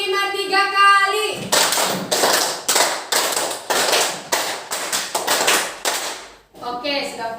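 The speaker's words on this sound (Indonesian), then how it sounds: "Tepuk 5 3 kali." A group claps a 'tepuk 5' rhythm three times, producing a crisp, loud burst of repeated hand claps in a structured pattern. Short tonal musical sounds come before and after the claps.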